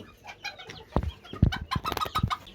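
Chickens and a rooster cluck softly around feed in a coop: scattered short clucks and pecking taps, close and fairly quiet.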